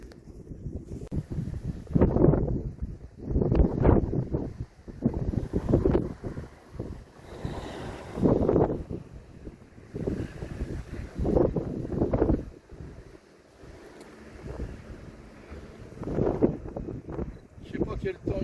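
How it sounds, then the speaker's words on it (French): Gusts of wind buffet the microphone in low, surging rumbles that rise and fall on an Alpine mountainside near the Mont Cenis lake, with a voice speaking now and then underneath. "Un silence et un petit peu de vent, c'est tout."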